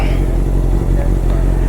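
A Honda CBR650 superbike engine, just started and warming up, idles with a loud, close, steady throbbing exhaust rumble and slight mechanical clatter, rising in a couple of small revs, no talk.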